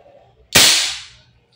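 An Umarex HK416D gas blowback airsoft rifle fires a single loud, sharp shot up close, its crack fading over about half a second in an otherwise quiet room.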